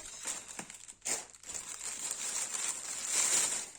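Crinkly rustling and crumpling of a thick cross-stitch supply parcel being opened, with a sharp tearing burst, close and moderately loud.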